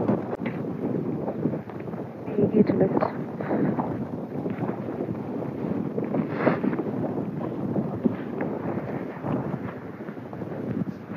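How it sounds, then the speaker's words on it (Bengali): Steady wind gusts outdoors in the Shropshire countryside near Much Wenlock, a continuous rushing buffet on the microphone, loud and close, with a brief spoken remark partly buried underneath. "আজকে ভালো হাওয়া দিচ্ছে"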